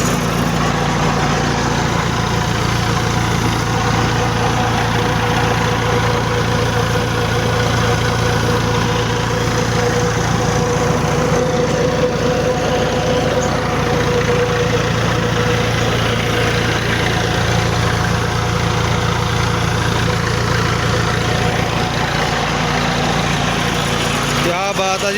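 A Massey Ferguson MF 285 tractor's engine runs steadily, driving the PTO, a smooth continuous low rumble with a constant drone throughout and no talk over it.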